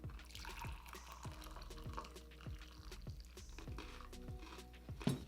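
Hot water poured for matcha, a quiet trickle with small splashes and drips in a faint indoor setting, ending in a slightly louder burst.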